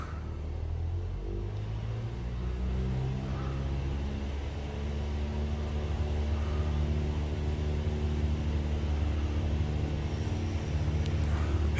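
An aircraft engine drones steadily through the takeoff roll in Microsoft Flight Simulator 2020, a continuous low rumble that slowly builds with little change in rhythm.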